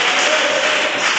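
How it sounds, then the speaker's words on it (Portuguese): A church congregation gives Jesus a brisk, dense round of applause, steady and loud for a brief moment with no voices over it. "dê uma salva de palmas bem alegre para Jesus"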